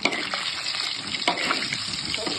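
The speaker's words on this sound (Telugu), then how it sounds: "ఫ్రై చేస్తున్నా. ఓకే, నూనె ఆయిల్ వేడెక్కింది." Chicken leg pieces frying in hot oil, a dense, close, steady sizzle with occasional crackles and small bursts, fairly loud and continuous with no speech over it.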